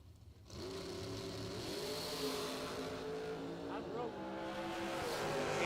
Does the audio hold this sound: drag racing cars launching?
yes